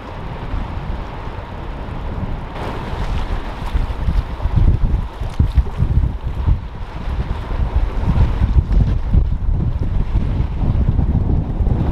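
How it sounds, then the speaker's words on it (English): Strong wind gusting and roaring steadily by the Niagara River during a winter storm, buffeting the microphone with low rumbling bursts and rising and falling gusts throughout, with no talking. "you can tell by the sound, the wind has really started to pick up"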